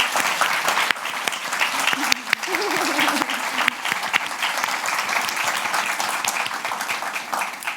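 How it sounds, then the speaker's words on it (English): Audience applause for a panel at a TV production masterclass: loud, sustained clapping from a room full of people, with brief voices and a murmur mixed in under the clapping. "Should we have a round of applause for our panel"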